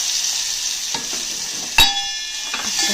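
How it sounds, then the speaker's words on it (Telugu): Onions and tomatoes fry in a pan with a steady, close hiss of sizzling oil, broken by a few stirring scrapes and one sharper clatter. "ఇది మంచిగా ఫ్రై అయిపోవాలన్నమాట"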